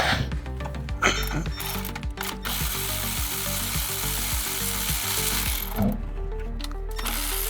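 A ratchet clicks steadily while loosening the two 10mm bolts holding a wiring harness on a 2008 Honda Ridgeline engine, a dense, close, continuous rattle of pawl clicks with a brief pause near the end.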